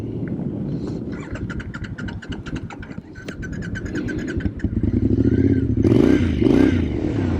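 A carbureted 900 cc engine on a 2006 Triumph Scrambler runs close by, a steady rumbling idle with mechanical clatter that swells louder toward the end.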